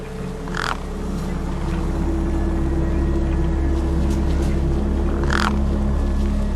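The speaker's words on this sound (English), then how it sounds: "No way I was going to get between those birds and their feast." Crows caw twice, well apart, over a steady low ambient drone in the video game Beyond a Steel Sky, the birds sounding moderately near and fairly loud.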